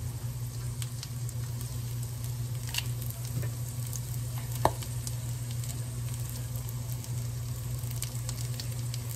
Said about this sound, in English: I'm going to sprinkle these herbs around so they can cook along with the mushrooms.